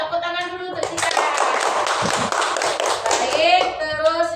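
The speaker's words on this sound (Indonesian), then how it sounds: "Ya, tepuk tangan dulu untuk kita." A classroom group of children claps together in a steady, loud burst of applause lasting several seconds, with voices calling out over the clapping.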